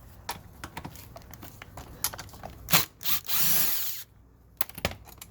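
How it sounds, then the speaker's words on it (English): A power tool spins out body kit bolts on a Rosso Model T, with short bursts and one longer, louder whir of the driver among scattered clicks and handling noises, close by. "Now I'm going to remove 2 bolts on each side of the body kit, which is on the front of the body kit"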